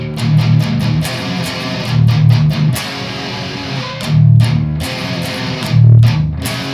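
Heavily distorted electric guitar chugging out thick, thuddy chords in short repeated bursts with brief gaps between them.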